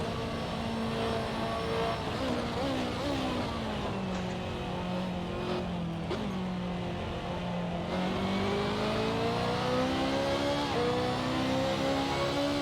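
Simulated BMW GT2 race car in a racing game, its engine roaring steadily and loudly throughout, pitch rising and falling through gear changes along the circuit at Canadian Tire Motorsport Park.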